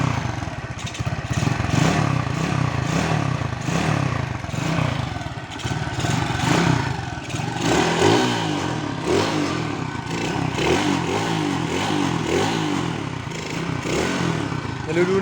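Nice 125 motorcycle with a semi-loaded engine, RFI stock exhaust pipe and a flooding carburetor, revving continuously under held throttle, loud and close, with a rough, rising and falling drone and clattery overtones throughout.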